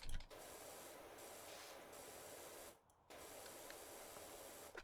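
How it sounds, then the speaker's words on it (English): Constant pressure washer jet spraying in Powerwash Simulator, a steady broadband hiss that runs unbroken for several seconds, with a brief dip near the end before it resumes. "Just press right click and just have a constant jet spraying."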